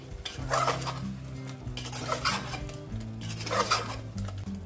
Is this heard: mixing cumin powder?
yes